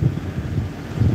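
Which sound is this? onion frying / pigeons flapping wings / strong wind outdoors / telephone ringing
strong wind outdoors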